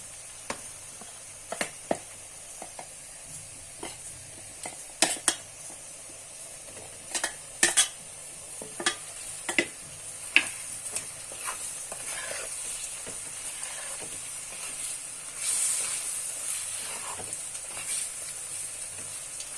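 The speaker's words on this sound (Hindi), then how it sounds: "इसको लो फ्लेम पे पकाऊंगी मैं इसे अच्छे से, इस मसाला को, जब तक टमाटर अच्छे से गल न जाए" Tomato masala for an egg curry simmering on a low flame, with a faint steady sizzle beneath scattered spoon clinks and scrapes against the pot at irregular intervals, no voices.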